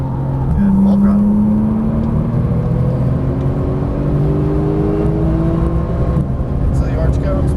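A Porsche Turbo engine pulls hard at full throttle, its rising tone climbing steadily while loud, continuous road rumble fills the background.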